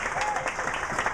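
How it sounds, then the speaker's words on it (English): Brief burst of audience clapping for Coach Steve Lochte, with crowd applause holding steady throughout. "Another round of applause for Coach Lochte."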